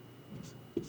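Soft scratching of a pen or pencil writing numbers by hand on paper, faint and close, with a small tap near the end and no speech.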